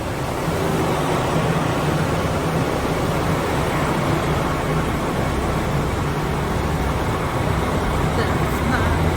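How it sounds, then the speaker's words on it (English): A train pulls into a JR station platform in Japan on the Aomori to Sapporo route, giving a steady, loud, broadband rumble and rush that continues without a break. "That's my train."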